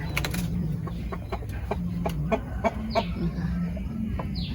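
Black chickens cluck and murmur close by in a low, repeated rhythm, with sharp scratchy clicks and a few higher calls scattered over a steady farmyard background, and no talking.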